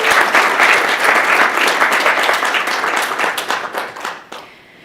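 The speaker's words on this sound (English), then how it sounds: "we can give her a big round of applause so she can feel that love and energy from a distance" A conference audience gives a long, dense round of applause, loud and steady for about four seconds before thinning out and fading into quiet.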